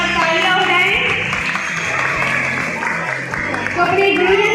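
Applause for the teachers at a school farewell party fills the room, a loud, steady wash of many hands clapping that holds for the whole stretch without a break.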